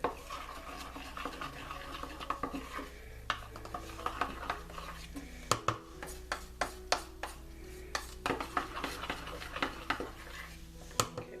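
A spoon scrapes and taps against a bowl in repeated, irregular strokes while thick melted chocolate is stirred, close up and fairly quiet, with no speech.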